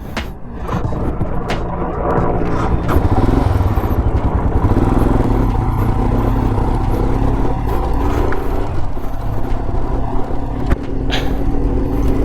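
A motorcycle ridden from Sonamarg over Zojila Pass toward Kargil, a steady loud engine drone with wind buffeting and road clatter running throughout, no talking.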